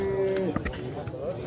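A cow at a busy livestock bazaar in Farmonqurgon gives a short, low tonal call that fades within half a second. A faint second lowing follows amid crowd noise and nearby talk.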